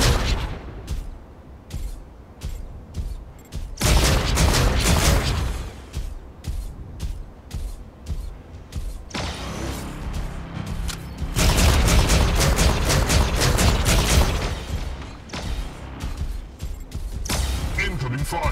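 Incoming gunfire and explosions in the mech combat game Mecharena, a dense, loud barrage of rapid shots and booming blasts rolling in continuous waves, with a player talking over part of it.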